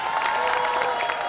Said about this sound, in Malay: Tepukan untuk konvoi kita.